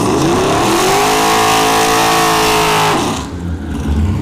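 A V8 single-turbo Mazda RX-7 FD drag races at Bradenton Motorsports Park, its loud engine roaring and climbing in pitch through the gears before the sound suddenly falls away.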